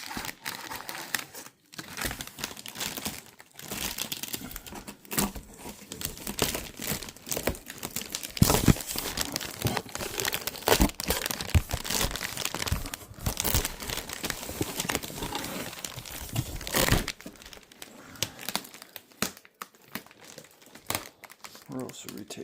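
Packing tape being peeled and torn away from the cardboard box of a Nexa FW190 1510mm model plane, with long crinkling, ripping bursts running almost continuously at close range while a person talks.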